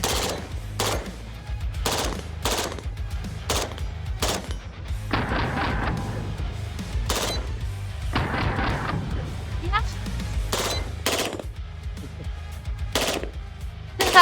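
An MP7 submachine gun fires in repeated short bursts, sharp loud cracks spaced through the clip, with someone talking and reacting excitedly between and over the shots.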